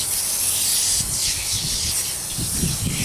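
An aerosol can sprays continuously onto a lawnmower, a loud, close, steady hiss running the whole time with slight pulses in intensity and no talking.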